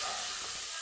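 Sliced ivy gourd sautés in hot oil in a pan for a thuvaiyal, cooking until browned and curled, giving a steady, close, even sizzling hiss throughout.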